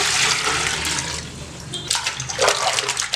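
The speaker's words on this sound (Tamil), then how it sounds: "இப்போ அதை நம்ம தண்ணி ஊற்றி நல்லா அலசிக்கலாங்க." Water poured over fish pieces to rinse them during fish curry preparation, a steady splashing gush that fades, then returns in uneven bursts of spattering water, close and moderately loud.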